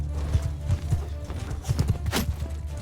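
Horses galloping in Mount & Blade II: Bannerlord as horse archers skirmish, giving a steady, close clip-clop of hooves with a brief whinny-like cry near the end.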